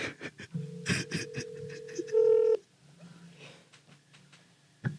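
A phone dials out: a quick run of touch-tone beeps followed by a longer sustained tone, with breathing and brief voice sounds around it, fairly close.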